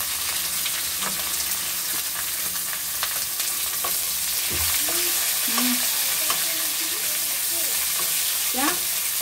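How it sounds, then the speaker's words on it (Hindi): Four small chopped onions fry in a pan with bay leaves for lemon pulao, giving a loud, continuous close sizzle with occasional scraping stirs and faint background pitches, no voices. "अब ये प्याज भून रहा है"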